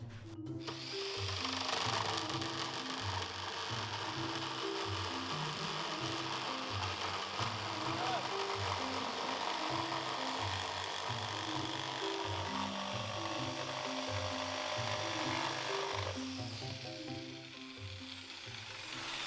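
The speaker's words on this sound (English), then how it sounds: "It's difficult with a jigsaw." Jigsaw cutting wood inside a van under conversion, a steady rapid chattering buzz that runs continuously for most of the clip before tapering off near the end.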